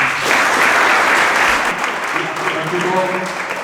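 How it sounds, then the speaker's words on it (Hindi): Steady audience applause at a passing-out ceremony after Indian Navy Agniveer training, honouring the proud parents of a trainee. The clapping is loud, dense and sustained throughout, and a voice speaks over it toward the end. "उनके तालियां हो जाएं"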